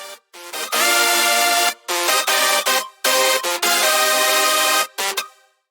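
A loud, distorted hardstyle synth melody plays in bursts of sustained, horn-like chords broken by short gaps, with no voices.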